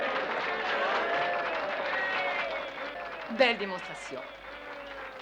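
A crowd applauds as a demonstration ends in Charlie's victory, the clapping running beneath voices that talk over it throughout, with a brief louder shout near the middle.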